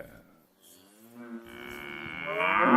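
Cows lowing nearby, a drawn-out moo that rises into a louder, longer call at the end.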